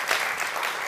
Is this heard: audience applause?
yes